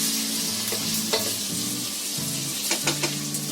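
Bell pepper, beans and green peas hit a hot pan of rice and vegetables, a steady soft sizzle under occasional scraping stirs and light clinks nearby.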